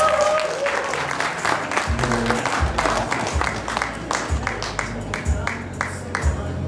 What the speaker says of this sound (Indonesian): sekali lagi tepuk tangan buat Syed, Fazli